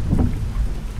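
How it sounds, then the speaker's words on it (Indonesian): Heavy rain in Euro Truck Simulator 2 drums steadily on a bus on a mountain road, a dense low rushing hiss with faint deeper rumbles. "Aduh mana deras lagi."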